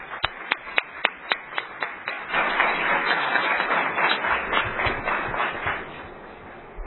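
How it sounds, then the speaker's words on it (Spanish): A few sharp, evenly spaced claps ring out alone, then an audience breaks into fuller applause welcoming a doctor to the stage at a bioethics lecture, dense and steady to the end. "Un aplauso"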